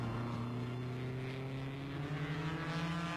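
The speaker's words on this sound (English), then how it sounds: "Maston Gregory has Salvadori and his 1500cc Cooper Formula 2 right in his wheel tracks." Racing cars at the 1957 German Grand Prix, including a 1500cc Cooper Formula 2 car, drone past at a distance, a steady engine note rising slightly in pitch, with no talk.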